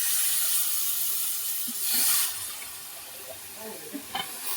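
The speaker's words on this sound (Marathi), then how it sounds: "आपण याच्यात आता कापलेली दुधी घालतोय" Chopped bottle gourd tipped into hot masala in a pan gives a soft hiss and gentle sizzle with stirring clatter, fading to a quieter simmer, while a person talks.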